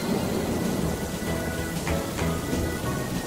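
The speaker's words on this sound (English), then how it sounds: "It's raining, and Peppa spots her rainbow umbrella." Steady rain pouring down with a low rumbling underneath, continuous and even, no voices.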